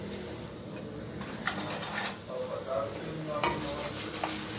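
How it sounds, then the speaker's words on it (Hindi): Mustard seeds and moong dal frying in hot oil in a kadai, a steady close sizzle with faint crackles and scraping stirs against the pan, and no speech over it. "अब इसमें वन टीस्पून राई डालेंगे और राई डालने के बाद इसमें हम डालेंगे वन टेबल स्पून मूंग की दाल"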